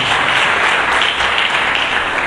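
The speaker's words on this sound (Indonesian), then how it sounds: "Mari kita berikan tepuk tangan yang meriah bagi Yesus" A church congregation applauding in a dense, steady roar of clapping that holds evenly throughout, loud and close, with no talking over it.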